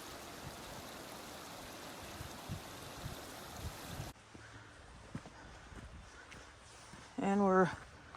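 A stream flowing beside a woodland trail through a glen, a constant soft rushing of water that drops back after a few seconds, with footsteps and a brief voice near the end.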